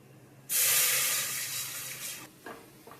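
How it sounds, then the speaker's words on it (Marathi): Water is poured into a cooking pot holding bay leaf while chicken biryani is prepared, a loud steady rushing splash lasting about two seconds that then tapers into a few small trickles and drips. "आणि मी त्याच्यामध्ये पातेल्यात पाणी टाकते."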